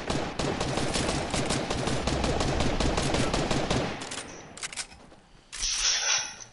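Rapid, dense automatic gunfire from a video game rattles loudly and nonstop for about four seconds, then gives way to scattered quieter clicks and a brief high electronic tone.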